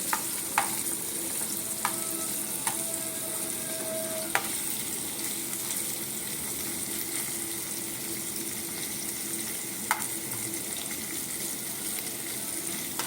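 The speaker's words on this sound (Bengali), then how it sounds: "এইগুলোকে রিফাইন তেলে সুন্দর করে ভেজে নেব আমি" Paneer pieces coated with salt, turmeric and Kashmiri chilli powder frying in refined oil, a steady close sizzle broken by occasional sharp clinks and scrapes of a utensil against the pan.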